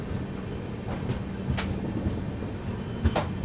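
A Pune to Kanyakumari Express pulling away from the station, heard as a steady low rumble of rolling stock with scattered clanks and brief rattles, faint and continuous throughout.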